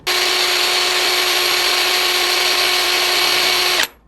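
APR AP33 Pro cordless impact wrench spinning freely at speed 3, a loud, steady high-pitched motor whine held for nearly four seconds before cutting off abruptly, alone without speech.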